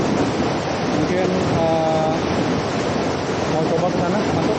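A waterfall, Curug Kadupunah near Citorek, roars as a loud, continuous broadband rush close by, with a brief voice faintly audible beneath it.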